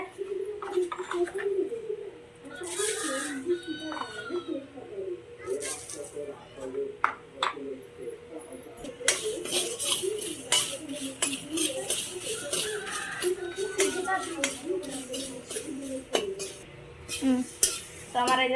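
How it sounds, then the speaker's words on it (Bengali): Chillies and grains dry-fried in a pan at home, with repeated scraping and clattering of a utensil against the pan throughout, a voice in the background and pigeons or doves cooing nearby. "এখন দেখো বন্ধুরা এখন ঝাল ভাজা করছি যে"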